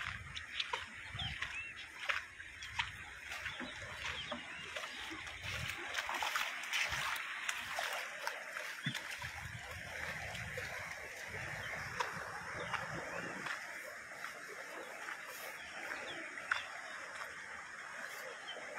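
Floodwater rushing over a small bridge at Kozhippalam on the S.N. Puram road in Puthur during heavy monsoon rain. A continuous broad wash of churning, splashing water, moderately loud, with scattered sharper splashes throughout.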